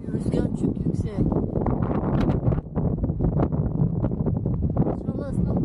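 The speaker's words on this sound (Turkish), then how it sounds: "Böyle bir rüzgar çok yüksek." Strong wind buffets a microphone on Yassıada island in the Sea of Marmara, a continuous loud roar and rumble with gusts throughout, while people talk over it.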